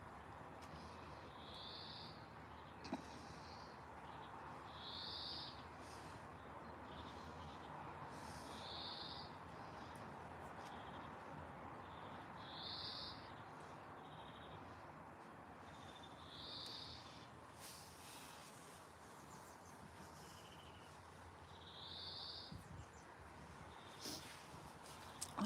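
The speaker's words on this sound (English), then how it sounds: "I think I can hear young birds." Faint, high, rasping calls from young birds repeat at regular intervals, roughly every two seconds, over a quiet hissing background.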